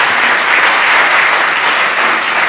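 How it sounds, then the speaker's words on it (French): Audience applause at a live comedy and magic show, loud, dense and steady clapping filling the whole moment without a break and with no talking over it. "On peut l'applaudir."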